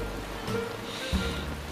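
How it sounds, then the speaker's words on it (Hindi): Light drizzling rain falls steadily in an outdoor drama scene with an umbrella, a soft, even patter throughout without talk. "रिमझिम सी बारिश।"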